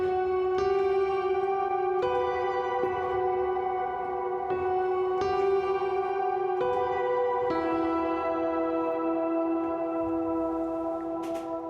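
Sustained piano chords in MainStage ring out one after another, each swelling into a long, shimmering wash of very wet shimmer reverb that blurs the notes together.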